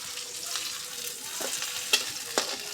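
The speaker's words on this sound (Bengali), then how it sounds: "এখন আমি নাড়াচাড়া করতেছি" Chopped onion and whole spices (bay leaf, cinnamon, cardamom and cloves) sizzle steadily in a pan while a spoon stirs them, with a couple of sharp scraping knocks against the pan standing out; no talking.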